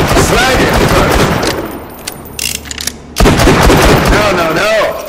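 Rapid bursts of slag-weapon gunfire in the video game Borderlands 2, loud and dense, breaking off for about a second before resuming just as heavily.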